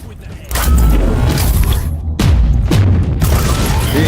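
Two heavy grenade explosions go off in the video game Warhammer 40K Inquisitor Martyr, each a loud, deep boom with a rumbling tail, the second coming roughly two seconds after the first.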